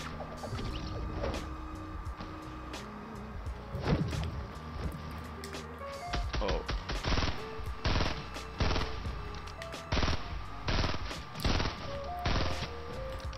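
Burst rifle in Fortnite Battle Royale fires repeated quick three-round volleys, loud and close, spaced by short pauses over game ambience, with a few scattered shots and clicks earlier.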